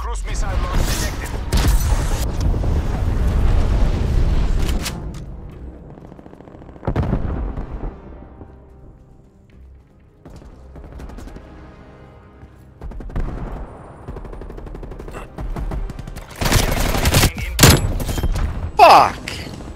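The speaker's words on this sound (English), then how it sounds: "Napalm strike incoming. Enemy cruise missile launch detected." Napalm strike and cruise missile explosions in Call of Duty: Black Ops Cold War, with loud, heavy booms and blasts arriving in bursts and separated by quieter lulls of rumbling battle noise.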